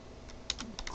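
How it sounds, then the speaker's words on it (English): Soft, quick keystrokes on a computer keyboard, a handful of light clicks in under a second, faint and close against quiet room noise. "So I'll type that here."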